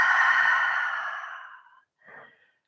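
A long, steady exhale during a Pilates workout, strong at first and tapering off over about two seconds, followed by a short, softer breath. Close and clear, with no talking over it.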